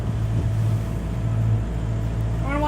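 An outboard motor on an Oceanis 400 sailboat starts and runs with a steady low rumble, its pitch rising slightly near the end as it revs.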